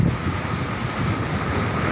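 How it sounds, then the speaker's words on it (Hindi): Sea waves surge and churn off Mumbai on an evening before rain, a continuous heavy rumbling wash heard up close with wind buffeting the microphone. "पानी का जो लहर है बहुत भड़क रहा है क्योंकि बारिश आ रहा है"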